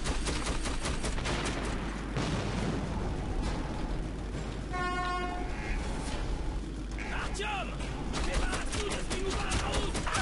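A mounted machine gun turret fires in Metro 2033, rapid dense bursts of gunshots hammering almost continuously, loud and close, with a short mechanical tone partway through and voices talking faintly underneath.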